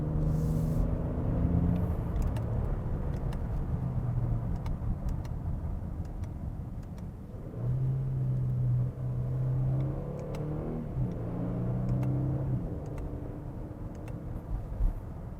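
A 2020 Genesis G90 luxury sedan accelerates from inside the cabin with a muted engine rumble, and the pitch steps down audibly as gears shift quickly and smoothly.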